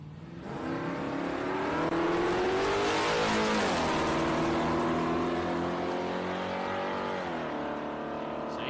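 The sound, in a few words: Holden cars with 308 engines racing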